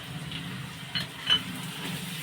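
Garlic and ginger sautéing with onion in a pan, giving a soft, steady low sizzle with a few brief stirring scrapes, close and alone.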